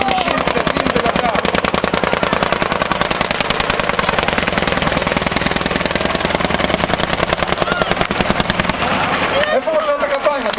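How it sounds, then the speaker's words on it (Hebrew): Rapid, continuous heavy fire from a helicopter's single-barrel 30 mm cannon at about 650 rounds per minute, a dense mechanical rattle sustained for about nine seconds during target practice, then cutting off abruptly. "ומיד נשמע את התותחים מתחילים לרעום."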